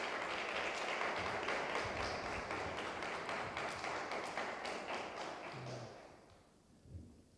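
A church congregation at a Sunday afternoon service claps together in a dense, fairly quiet burst of applause that fades out near the end, leaving a couple of soft thumps.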